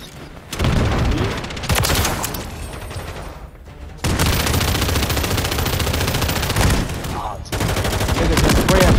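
Rapid automatic gunfire from the Modern Warfare video game rattles in loud, dense bursts, cutting out briefly and resuming in long sustained volleys with booming low thuds, close and harsh throughout.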